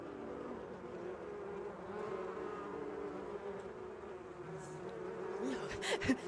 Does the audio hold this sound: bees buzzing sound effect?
yes